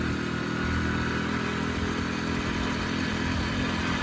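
A steady, loud engine rumble from a vehicle with no brakes moving slowly, constant and close throughout with no pauses.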